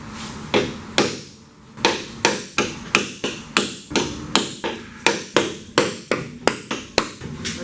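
A steel punch hammered onto spot welds on a Corvair front valance rings out in a run of sharp, close metallic blows, irregular but steady, each ringing briefly with no talk.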